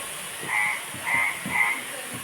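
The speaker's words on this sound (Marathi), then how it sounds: "आमची तर बेडका एवढी ओरडताय ना." Frogs croaking at night in the Konkan countryside, three loud rhythmic croaking bursts spaced about half a second apart, close and clear over quiet background.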